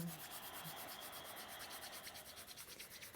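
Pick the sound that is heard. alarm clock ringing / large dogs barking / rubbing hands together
rubbing hands together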